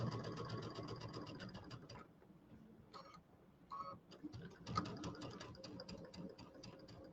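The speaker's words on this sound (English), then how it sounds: "I'm still using my Q02 piecing stitch on my machine" A home sewing machine runs a piecing stitch on fabric for a table topper with a fast, even rattle of stitches. It pauses briefly, gives a couple of short bursts, then sews steadily again, close and faint.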